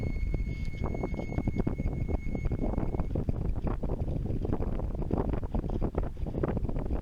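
Strong wind buffets a sailboat on a lake as a squall builds, a constant loud roar of gusts hammering the microphone with water sloshing underneath, steady throughout with no voices.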